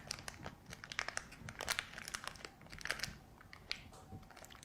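A plastic piping bag with a decorating tip crinkles and rustles in quick, irregular bursts close by, quiet crackling handling noises with brief pauses.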